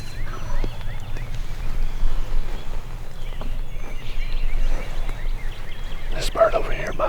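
A wild Tennessee gobbler calls outdoors with a brief, fairly distant gobble near the end, over steady rustling field ambience and quiet voices.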